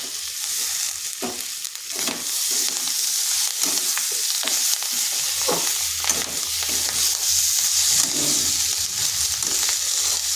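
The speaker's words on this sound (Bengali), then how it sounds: "আঁচটা স্লো আঁচে রেখে এইভাবে ভাজতে হবে।" Steady sizzling of onion stalks frying in a pan on low heat, with occasional scraping stirs throughout; no voices.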